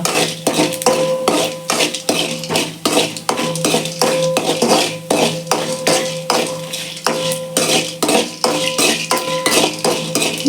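Country chicken gravy being sautéed in a pan, a ladle scraping and clanking against the metal in a fast, continuous rhythm over a bright sizzle, loud and close.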